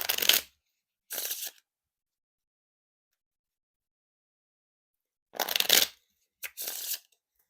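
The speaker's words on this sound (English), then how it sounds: "And now time for the Riffle Shuffle or Bridge Shuffle." Riffle shuffles of a fairly stiff Blue Bicycle Parquet playing card deck: four short crisp bursts of fluttering cards, two near the start and two near the end, separated by silence.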